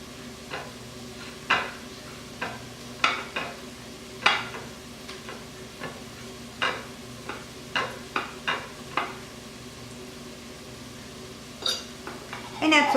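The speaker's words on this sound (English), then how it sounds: "just mash up the baked potato" Baked potatoes being mashed in a bowl, a series of irregular soft thuds and scrapes from the masher, fairly close, with a low steady hum underneath and a quicker clatter at the end.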